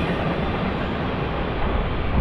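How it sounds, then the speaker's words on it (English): Eastbound Norfolk Southern freight train on the Lehigh Line hauled by Union Pacific EMD SD70M locomotives, a steady, loud rumble and roar of engines and rolling cars close by, continuous throughout with no talk. "It's like the third train with Union Pacific locomotives I've seen."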